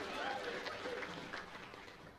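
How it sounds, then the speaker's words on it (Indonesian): Applause from an audience at a lively church-style gathering in Toraja, steady and fairly faint, with voices and chatter mixed into the noise. "Tepuk tangan juga bagi semua sektor yang sudah ambil bagian"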